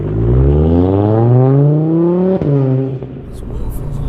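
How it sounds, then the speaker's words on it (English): An Audi RS3 tuned to around 700 bhp accelerates hard, its engine note climbing steadily in pitch with a rising turbo whoosh, loud and close from inside the cabin, a brief break near the end as it shifts and pulls on. "Listen to that. you will get the turbo surge."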